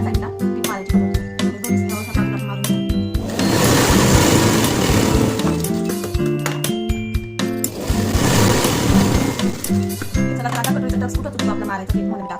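A sewing machine stitching tucks into fabric, with two loud bursts of rapid mechanical whirring separated by quieter handling clicks and pauses.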